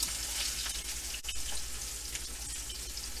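A tomahawk beef ribeye steak searing in a hot pan gives a steady, close, loud sizzle with a brief crackle partway through, and no talking over it.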